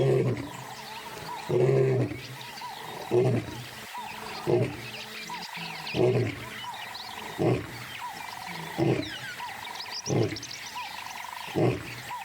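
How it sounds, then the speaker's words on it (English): A male African lion roaring, a series of deep grunting roars spaced every second or so, loud and close over a quiet wild background. "He announces his presence with a bellowing roar, which can be heard for up to 5 miles."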